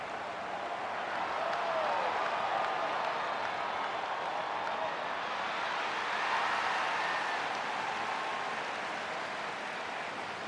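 A stadium crowd at an AFL football match applauds and roars steadily as the teams run onto the field, a dense, sustained wash of clapping and cheering heard from a distance.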